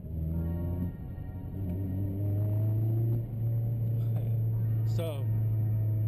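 A passing car engine revs and accelerates nearby with a rising low rumble that swells and fades over several seconds, as a youngster races on a street at night; a person talks over it.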